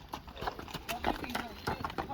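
Hooves of a small horse clip-clop in irregular dull thuds, faint and distant under a noisy outdoor background, with people talking.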